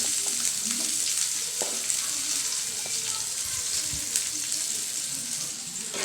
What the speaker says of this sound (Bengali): লাস্ট যে কাজটা করব সেটা পেঁয়াজ আর মরিচ দিয়ে একটু, যেহেতু ডাল বাগার তো দিতেই হবে